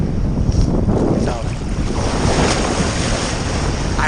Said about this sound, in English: I've never experienced waves like this.